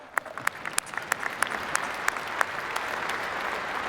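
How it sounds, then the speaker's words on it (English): Audience applause at a corporate technology keynote on AI and data storage, a steady wash of many hands clapping with a few sharper claps standing out early on, fairly distant and even, with no talking. "you can clap"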